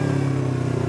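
Kawasaki Vulcan S motorcycle engine running at a steady, even drone, close and continuous, with no voices.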